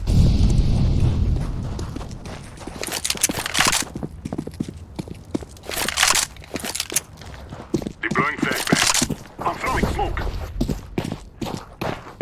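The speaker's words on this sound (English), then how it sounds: "Throwing a flashbang. Incendiary." Flashbang and incendiary grenades go off in a Counter-Strike: Global Offensive match as a series of sharp bursts and crackling blasts amid footsteps and gunfire, with a player talking over the action.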